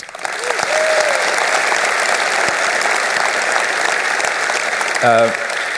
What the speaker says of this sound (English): So we just want to give them a little kind of applause here.